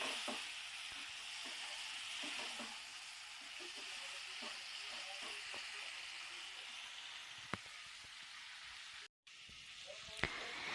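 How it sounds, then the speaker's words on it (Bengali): Pumpkin sautéing in a pan with spices and green chilli gives a soft, steady frying hiss with scattered stirring clicks, faint and close, with no talking. "মশলা আমি খুব সুন্দরভাবে মশলার সঙ্গে কুমড়োটাকেও ভালো করে কষে নিয়েছি।"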